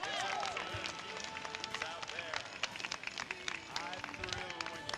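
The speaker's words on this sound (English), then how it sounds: "Give him a big round of applause" Crowd applause welcoming Mayor Pro Tem Fred Smith at an outdoor Christmas tree lighting in Buena Park, clapping and cheering layered under a loud announcer voice, a few whistles and crowd noise around it.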